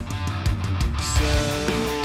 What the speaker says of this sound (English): we added this like telephone stereo like spacey effect thing